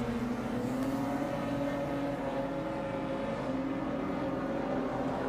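Street cars race in a heat at Cairns Speedway, engines droning and rising together at a steady mid distance, one pack holding a continuous roar for several seconds.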